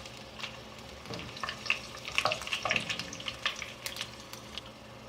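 Garlic and curry leaves frying in oil for a king fish curry, a quiet crackle and spitting with scattered sharp pops that cluster in the middle, close and fairly soft.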